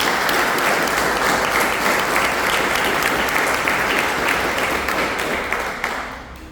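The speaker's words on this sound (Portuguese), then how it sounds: "dê uma salva de palmas à palavra do Senhor" A church prayer-group congregation breaks into loud, sustained applause, dense clapping filling the room before tapering off at the end.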